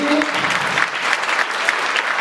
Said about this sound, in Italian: Quindi un applauso subito introduttivo ai bambini.